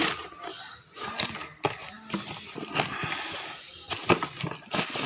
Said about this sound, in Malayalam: നമുക്കിനി അൺബോക്സ് ചെയ്യാം